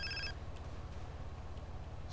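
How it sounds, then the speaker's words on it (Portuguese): A mobile phone ringing in GTA San Andreas, a brief electronic ring that cuts off quickly and leaves a steady low in-game hum underneath, with no talking. "Atende o telefone, por favor."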